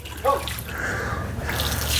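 A Higdon XS Pulsator duck decoy sprays water through clear tubing, making a close, continuous hissing splash and spatter outdoors, with a brief thump at the start and no talking.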